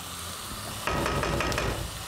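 Two spoonfuls of butter hit a hot pan for a nut rice pilaf, bursting into a sudden bright crackling sizzle partway through after a quieter simmering hiss.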